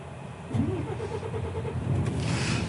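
A truck engine cranks and catches during a heavy-vehicle licence test, a low rumbling start followed by a steady idle that swells slightly, moderately loud and close, with no talking over it.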